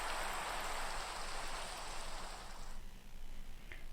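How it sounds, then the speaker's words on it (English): Rain in Minecraft: a steady, dense hiss of falling rain that thins out near the end, quiet and continuous with no voice over it. "Stupid rain, go away."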